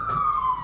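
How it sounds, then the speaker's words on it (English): A siren wails in a single brief, loud, steady tone that glides slightly downward, heard alone and close for under a second. "Here a siren"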